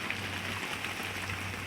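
Rain falling heavily during a big thunderstorm over a house, a steady dense hiss of drops hitting surfaces, even and continuous throughout, with no talking.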